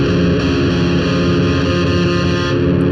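A distorted electric guitar power chord for a song rings out loud and sustained for a few seconds, thick with effects, with no talk.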